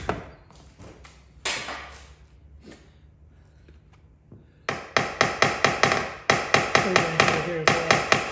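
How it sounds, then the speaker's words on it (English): Hammer tapping down the raised crown of a dent in a car panel during paintless dent repair, a few scattered taps at first, then a quick run of sharp, close, ringing metallic strikes in a steady rhythm. "Now I'm going to take my hammer and I'm going to release that crown as much as I can"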